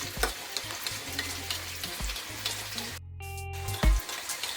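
Chicken and vegetables stir-frying with ketchup in a pot, a busy close sizzle broken by repeated spoon scrapes and knocks, with a brief hush midway before the frying resumes.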